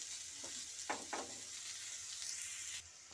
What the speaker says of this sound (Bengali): পেঁয়াজ কুচি দিয়ে আমি পেঁয়াজগুলোকে ভালো করে নেড়ে নেব আলুর সাথেই